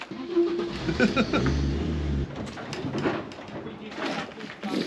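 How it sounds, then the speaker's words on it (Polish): A car engine is revved too hard while the driver reverses with the wheels turned fully. It gives a deep roaring surge that then drops away as people talk over it. "Bo ty go za mocno gazujesz, Rafciu!"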